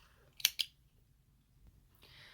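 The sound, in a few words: cutting crochet yarn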